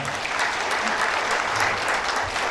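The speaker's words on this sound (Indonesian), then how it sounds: "Wow, tepuk tangan ya." An audience at a Buddhist Dharma talk in Solo, Indonesia, breaks into steady, even applause, a dense sustained clapping that fills the hall without pause.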